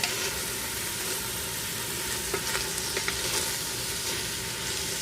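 Food sizzles steadily in an Instant Pot while taco soup is being made, a continuous crackling hiss with occasional small pops and scrapes, close and fairly loud.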